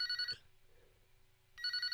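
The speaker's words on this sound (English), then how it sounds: "Yugi, answer that phone." A telephone bell rings in two short bursts of bright, rapid electronic trilling, separated by a quiet pause with faint background hum.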